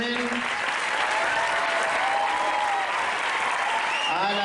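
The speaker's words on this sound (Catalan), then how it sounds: "un fort aplaudiment" Loud, sustained applause fills a hall at a children's music school festival, an audience clapping steadily for the whole stretch with a faint voice rising at the very end.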